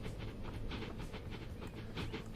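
A passenger train in the Transport Fever 2 game rolls into Clifton Down station, a steady rumbling rail noise with faint rhythmic clatter running continuously at moderate level, no voices.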